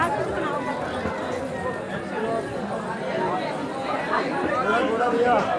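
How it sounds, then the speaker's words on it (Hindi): Dense crowd of pilgrims on the mountain path to the Vaishno Devi temple near Katra in cold January weather: a steady, close hubbub of many overlapping voices and footsteps, continuous babble with no single speaker standing out. "आने जाने वालों की बहुत भीड़ है।"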